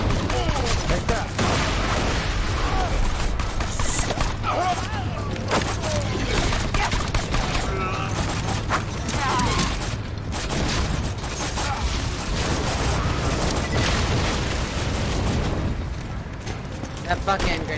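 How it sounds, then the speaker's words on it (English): Gunfire and blasts from a grenade fight in an Xbox shooter game, with loud continuous battle noise and repeated booms throughout, voices talking over the action. "Look out! Grenade!"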